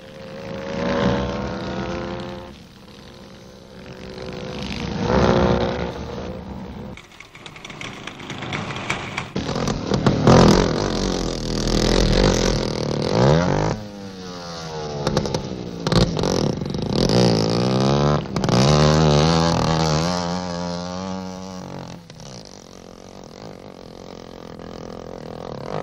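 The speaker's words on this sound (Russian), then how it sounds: "на мотоциклах класса 175 кубических сантиметров" 175 cc motocross motorcycles racing at a 1967 Moscow motocross event, engines rising and falling in loud, continuous revving passes throughout with no talking.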